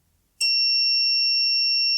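A shrill electronic buzzer driven by a relay circuit switches on abruptly after a brief silence and holds a steady, piercing tone without a break.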